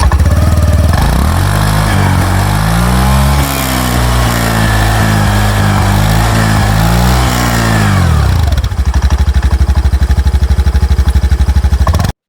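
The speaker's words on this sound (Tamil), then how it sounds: "ஸ்கூட்டரோட நீங்க எக்ஸாஸ்ட் நோட் கேளுங்க எப்படி இருக்குதுன்னு சொல்லிட்டு." A Honda Dio 125 scooter's exhaust note: a steady, loud buzzing engine close by that rises and falls through gentle revs, then shifts to a rougher, throbbing idle near the end.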